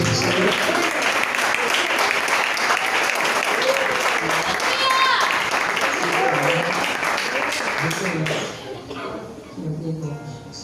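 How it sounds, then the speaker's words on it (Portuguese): A church congregation applauds during a worship service, dense sustained clapping filling the room with voices and singing mixed in, fading sharply near the end. "você pode aplaudir"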